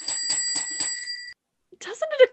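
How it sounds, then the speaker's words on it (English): An electric bell rings in rapid repeated pulses with a bright metallic tone for just over a second, then a voice speaks after a short pause. "we'll try the bell once more"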